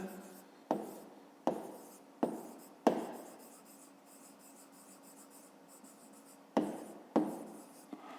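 Pen writing out a 5th-grade maths exercise: a run of separate scratchy strokes, then a longer steady scribble, then a few more strokes, close and quiet, with no one talking.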